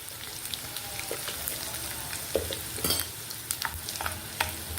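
Garlic cloves frying in a pan with crushed cumin and turmeric, with a steady soft sizzle and occasional louder crackles and spoon scrapes throughout.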